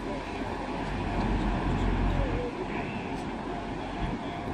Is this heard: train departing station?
yes